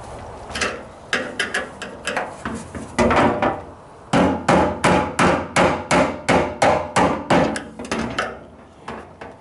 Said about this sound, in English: I'm going to grab my hammer, tap it in place.